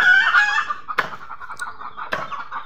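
Several chickens cluck and squawk while chasing rabbits at a rabbit farm. Busy nasal calls open the clip, followed by two sharp broadband bursts and scattered fowl cries that continue close by.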